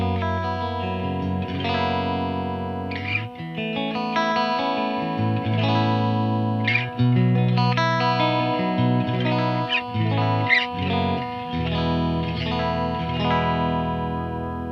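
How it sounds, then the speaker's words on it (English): Electric guitar chords and picked notes ring out through a Splawn Nitro amp's clean channel with no effects, sustained and steady, played alone with no voices. "start out on the clean channel right now. I'll start it off with no effects"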